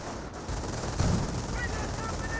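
Gunfire from a light half-track in the World War II strategy game Company of Heroes, a steady burst of rapid machine-gun rounds over a dense battlefield din, moderately loud throughout with no one talking.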